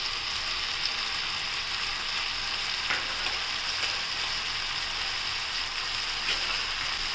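Sprouted green gram frying in a pan with crushed peanut powder, giving a steady, close sizzle with soft crackling pops throughout and no voices.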